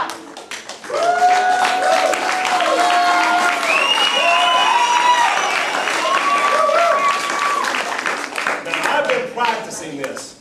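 An audience claps steadily throughout a martial arts belt ceremony, sustained applause lasting several seconds with a voice speaking over it.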